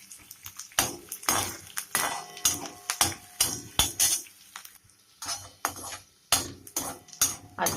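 Spoon scraping and clinking against a pan while cumin and spice paste are stirred, a steady run of close metallic taps and scrapes with brief pauses.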